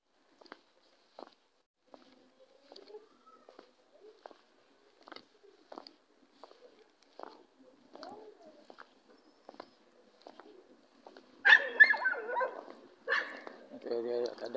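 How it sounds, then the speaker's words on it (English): A dog barks in short, sharp bursts at a distance during a walk on a wet street before a storm, with birds cooing and people talking nearby, growing louder toward the end. "Okay, there's a dog."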